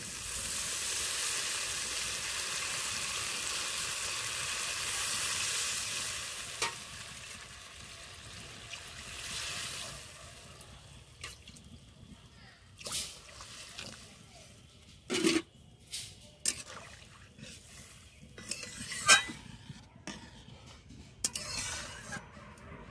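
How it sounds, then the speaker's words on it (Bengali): Water is poured into a hot pan of potato, pea and paneer curry, setting off a loud, steady sizzle that fades. Quieter bubbling follows, broken by sharp clinks and scrapes of stirring. "দেখুন ঠিক এই সময় জল দিয়ে দেব"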